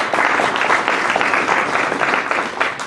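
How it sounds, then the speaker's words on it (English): A room full of event attendees gives a dense, sustained round of applause, many hands clapping together in a steady wash with no gaps from start to finish. "I think you should give yourselves a round of applause."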